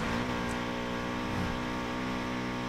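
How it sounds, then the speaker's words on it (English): A car engine in the Need for Speed Payback racing game revs hard and steadily, giving a continuous harsh, buzzy drone that holds loud and close for the whole stretch. "God, I love how thrash this thing sounds on the shift."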